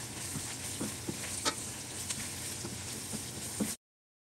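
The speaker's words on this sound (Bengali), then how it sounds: "শুটকিগুলোকে এই তেলে একটু ভালো করে ভেজে নিতে হবে" Loitta dried fish fries and sizzles in hot cooking oil, a steady close crackle broken by soft scraping stirs and light clicks of a spatula against the pan, with no talking.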